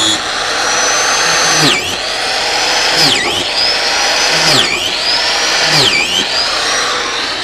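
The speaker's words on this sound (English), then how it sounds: "drill a series of holes in this oak logs" A power drill bores holes into oak logs, whining high and steady with three or four distinct bite-and-release dips as the bit plunges in and pulls out, loud and close.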